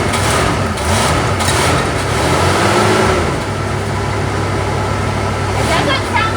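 A 1975 Chevrolet Monza's 350 V8 runs at a steady idle after 12 years unstarted, a low continuous rumble with a brief rise midway, while people talk nearby.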